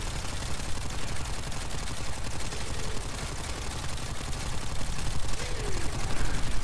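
Quellor weapon in the Warframe video game firing at 90% fire rate, a dense, continuous stream of rapid shots that holds steady and loud without a break.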